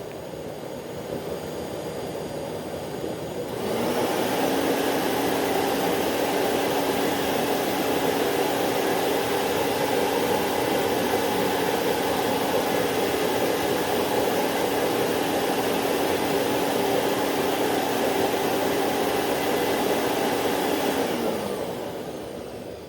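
Prolux CTX vacuum cleaner switched on at high power, a loud, steady whining roar with a constant motor pitch that starts abruptly, runs for about eighteen seconds, then winds down at the end.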